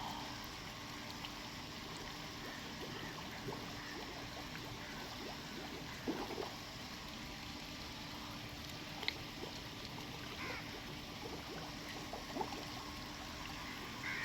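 Breath is let out slowly underwater during a breaststroke swimming lesson, giving a continuous soft bubbling and rushing water sound with a few small splashes, fairly faint and steady throughout, with no talking.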